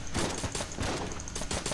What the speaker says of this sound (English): it's a nail gun